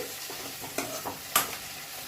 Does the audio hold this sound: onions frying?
yes